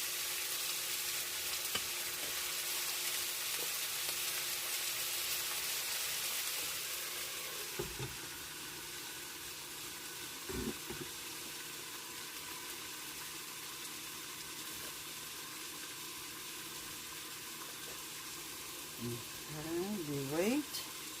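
Pork sizzles and fries in a covered pan, a steady, quiet hiss that softens after a few seconds, with occasional light clinks and a brief voice-like sound near the end.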